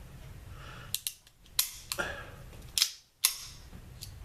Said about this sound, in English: it's okay to dry fire with that on because it puts up a little piece so it doesn't hit the firing pin